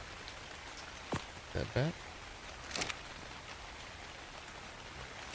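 Steady rain patters across the whole stretch in ARK Survival Ascended on the Ragnarok map, a continuous hiss of drops with a few short voice bursts and clicks cutting in over it.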